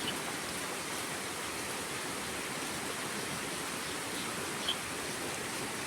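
Heavy rain pours down steadily around a house with plants, a dense, unbroken hiss that stays loud and even throughout with no voices.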